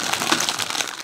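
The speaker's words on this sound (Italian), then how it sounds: "Apriamo il sacchetto." A plastic bag around a toy ice cream van set being opened, a short burst of crisp crinkling and rustling close to the microphone, alone without talk.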